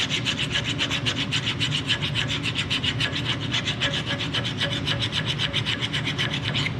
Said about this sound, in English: I'm putting pressure on the forward stroke to ensure that the file is actually cutting through the rust